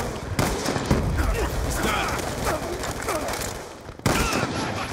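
Gunfire in Call of Duty Black Ops 2 crackles as dense, rapid bursts of automatic shots under excited players' voices, broken by a brief lull before another sharp volley.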